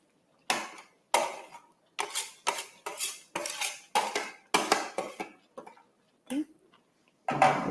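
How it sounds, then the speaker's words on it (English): A spoon scrapes and knocks against a pot while cocoyam soup with sliced leaves is stirred, giving a series of sharp metallic clinks in irregular bursts, close and fairly loud, with short pauses between strokes. "This is a good stir."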